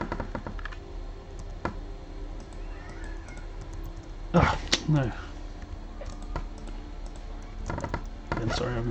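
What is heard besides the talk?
typing on a computer keyboard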